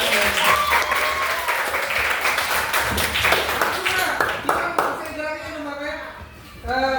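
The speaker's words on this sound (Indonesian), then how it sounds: "Oke, tepuk tangan dulu" A group claps hands during a supervised training session. Bright, scattered clapping runs for several seconds before thinning out, and voices and a sung or spoken tone come through near the end.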